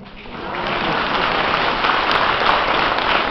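Loud, dense applause from a large audience swells in quickly and holds steady, a continuous rush of clapping.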